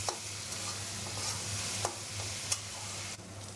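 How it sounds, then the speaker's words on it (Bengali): Onions fry in oil for a spicy Bengali chicken kosha, giving a steady close sizzle broken by a few sharp scraping clicks as a spoon stirs them in the pan. "পেঁয়াজটা একটু নেড়ে দেবো, নাহলে একদিকে ভাজা হবে আর একদিকে ভাজা হবে না।"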